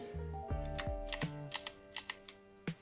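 Keys clack on a computer keyboard as a Ctrl Tab shortcut is typed, a scattered series of close, crisp taps and presses in an uneven rhythm over faint electrical hum.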